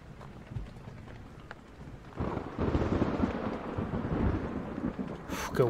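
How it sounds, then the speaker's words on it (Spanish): In the Blair Witch video game, a thunderstorm rumbles as a low roll of thunder swells midway and carries on under steady rain, fairly quiet overall. "el efectito de la tormenta"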